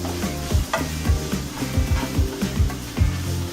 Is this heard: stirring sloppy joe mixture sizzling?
yes